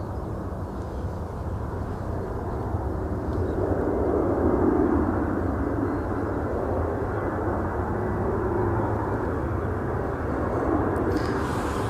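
A Jet2 airliner passes at Edinburgh Airport, its engines a loud, broad steady roar that swells slightly midway and holds for about twelve seconds with no talk.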